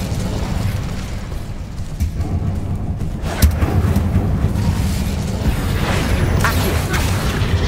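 An Incendio fire spell blasts in Hogwarts Legacy amid spiders, a burst of fiery explosive roar with a sharp pop near the middle, loud and dense over rumbling background combat.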